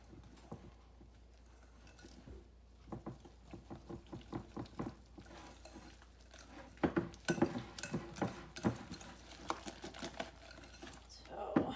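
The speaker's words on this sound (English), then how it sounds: "And just whisk that all together." Eggs, milk and cornbread batter are whisked together in a bowl, a close rhythmic clatter of utensil against the bowl that grows faster and louder in the second half, with no talking.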